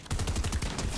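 A video game shotgun fires in a loud, dense burst of punchy blasts filling the whole short moment, close and forceful.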